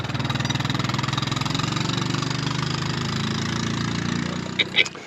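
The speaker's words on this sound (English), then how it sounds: "So we're drilling the pilot hole." Tractor-mounted auger attachment drilling a pilot hole for a ground anchor, a steady low mechanical drone with rhythmic pulsing running continuously, close and loud, with a couple of brief knocks near the end.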